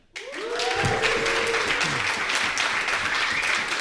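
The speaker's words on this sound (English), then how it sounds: "That's like 3 rounds of applause before we even started" A studio audience breaks into dense, loud applause for a guest on a podcast's 100th episode, continuing steadily throughout, with a voice speaking briefly over the opening moments.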